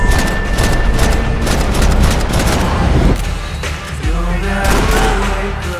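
Loud, dense gunshots ring out in Max Payne 3, a rapid barrage of booming shots that barely lets up, with a voice faintly heard beneath it.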